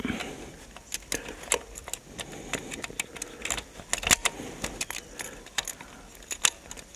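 Keys jangle in repeated bursts of bright metallic clinks, close and irregular, against quiet background noise.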